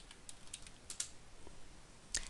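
Typing on a computer keyboard while entering a spreadsheet correlation function: sparse, light key clicks at irregular intervals, faint and close, with one sharper tap near the end and no voices.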